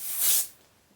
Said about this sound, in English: I spray it with the hairspray so it holds the volume